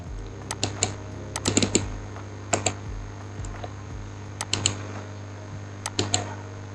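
Keys clicking on a computer keyboard in short irregular bursts of a few strokes each, close and clear over a steady low electrical hum, no voices.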